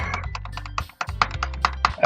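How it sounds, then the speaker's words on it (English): Rapid clicking of keys or a mouse while playing a visual novel game, a quick series of sharp taps over a low steady hum, fairly close and clear with no talking. "Can you hear the clicking?"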